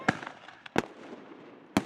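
Fireworks bursting outdoors on a Ramadan night before Isha prayers: three sharp, loud bangs spaced irregularly across a couple of seconds, each cracking broadly and fading quickly into a faint crackling background.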